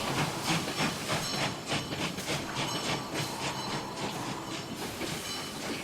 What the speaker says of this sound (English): inside the train station.